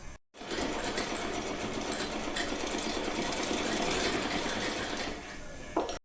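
A sewing machine stitching lace along the bottom of a cotton dress for a small Laddu Gopal idol, running in one steady, continuous mechanical whir from start to near the end, close and fairly loud.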